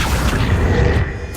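Bombarda spell detonating in Hogwarts Legacy, a dense, loud rumbling blast that fills the whole clip with a low, sustained boom and debris-like crackle, no voices over it.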